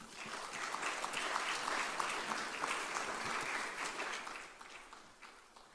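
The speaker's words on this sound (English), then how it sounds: "Another round of applause for her." Audience applause for a speaker at a mobile technology development conference, a dense steady crowd clapping that holds evenly and tapers slightly toward the end, with no voices over it.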